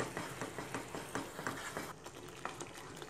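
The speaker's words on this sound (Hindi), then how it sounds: "इस मसाले को हमें तब तक भूनना है जब तक इसका ऑयल सरफेस पे नहीं आ जाए।" Spice masala with coriander powder and salt frying and being stirred in oil in a pan, with a steady close sizzle and recurring scraping stirs, no talking.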